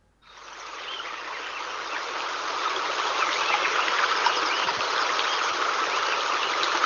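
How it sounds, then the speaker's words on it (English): A recorded forest soundscape filled with a steady hiss of flowing water, fading in quickly and then holding an even, dense rush with no voices. "So you can hear most water."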